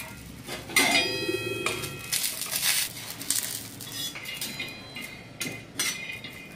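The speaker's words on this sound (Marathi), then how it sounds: "शेंगदाण्याला पण आपल्याला असं मस्त खरपूस भाजून घ्यायचं" Peanuts being dry-roasted in a pan, heard as faint rattling, clinking and scraping stirs with small ticking knocks, close but quiet, without speech.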